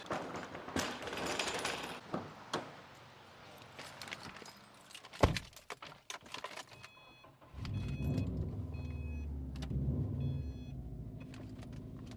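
A 2014 Subaru is driven out, with clattering handling noises and keys at first, then the engine rumbling steadily close by for the last few seconds, no talk.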